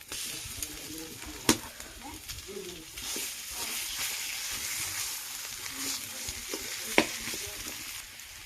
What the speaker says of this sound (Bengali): এবারে মেখে রাখা আলুটা আমি দিয়ে দেবো কড়াইতে